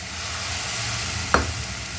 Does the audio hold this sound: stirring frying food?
yes